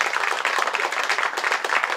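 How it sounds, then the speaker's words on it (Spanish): Audience applause at a comedy show, a steady dense wash of clapping from a crowd that holds for the whole stretch without talk on top. "Fuerte los aplausos, chicos, para ellos, gracias."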